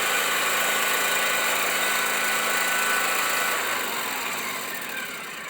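Riding lawn mower engine running steadily close by, a constant dense drone with a high whine that eases slightly toward the end, with no voices.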